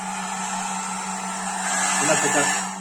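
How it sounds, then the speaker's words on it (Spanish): A hair dryer blows steadily on a freshly repainted Goku figure, a constant close whirring hiss with a faint hum that grows slightly louder near the end while a voice speaks briefly underneath. "para ir más rápido, tenéis aquí secador"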